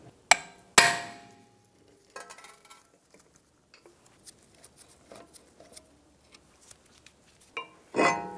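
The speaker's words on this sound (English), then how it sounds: "I'm using an impact driver and a hammer." Front brake rotor removal on a 2013–2017 Honda Accord: a few sharp metallic hammer strikes ring out close by. Scattered lighter taps and clinks sound between them, and a final burst of blows follows.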